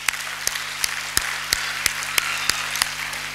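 Church congregation clapping together in a steady rhythmic beat, roughly three claps per second, over a broad crowd wash and a low hum in a large hall.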